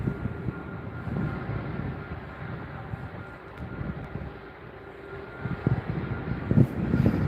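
An airplane taking off at Stockholm Arlanda Airport, a broad rumbling roar heard from a distance, steady with gusty swells and building slightly louder near the end.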